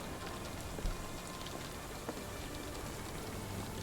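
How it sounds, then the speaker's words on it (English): Rain in the video game Sherlock Holmes: The Awakened, falling on a roof; soft, steady pattering hiss with occasional faint drops, quiet and continuous, with no voices. "And how is the rain coming through the roof?"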